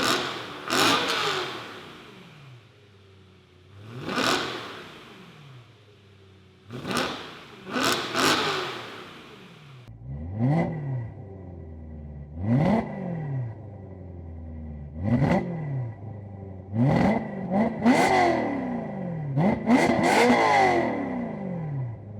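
A BMW M3 revving while stationary, with a series of sharp throttle blips rising and falling through a new exhaust. Some revs sound louder and raspier, and later ones sound more muffled and deeper. The revs come in repeated close bursts with no talking.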